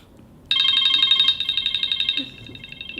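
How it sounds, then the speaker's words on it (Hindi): A phone rings with a bright electronic trill that starts abruptly, holds steady, then changes to a pulsing pattern; nobody speaks. "गुड्डू का फोन आया मेरे पास"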